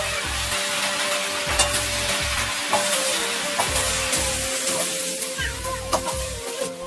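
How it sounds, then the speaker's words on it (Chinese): Chopped greens frying over high heat in a wok seasoned with curry powder and fennel seed, giving a loud, steady sizzle broken by regular scraping stirs. "洗好切碎的青菜直接倒进锅中大火炖煮"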